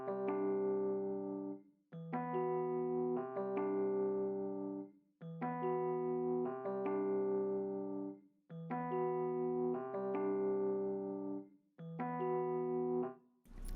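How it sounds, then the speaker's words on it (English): Addictive Keys electric piano strumming chords in a smooth beat: soft, ringing chord stabs in a steady repeating pattern, each sustaining and fading, played alone and fairly quiet. "this Addictive Keys piano, just an E piano, and I strummed out the original chords"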